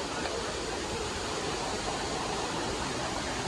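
A shallow, knee-deep river on a hiking crossing rushes steadily in a broad, even wash of water noise, continuous and moderately loud with no voices.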